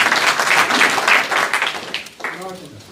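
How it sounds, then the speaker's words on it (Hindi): Audience at a book inauguration for a poetry gathering in the UK claps for the organizing team, a dense burst of applause that fades toward the end as a voice begins speaking over it. "तो एक दफ़ा भरपूर तालियां इनके लिए बजाइएगा।"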